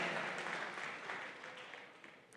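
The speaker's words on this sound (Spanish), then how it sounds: "Give God a round of applause." Church congregation applause, a steady wash of clapping that slowly tapers off over a couple of seconds, fairly faint and heard alone.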